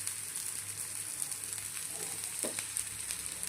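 Oil sizzling steadily in a pan as a thalipeeth, a mixed-flour flatbread with onion and coriander, fries over a low flame, a continuous crackling hiss with a few brief knocks.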